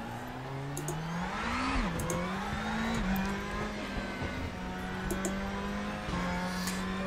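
A DTM 2020 race car in the RaceRoom racing sim laps Motorland Aragon, its engine a clear, steady whine that climbs, dips sharply and settles as the revs change, heard alone without talk.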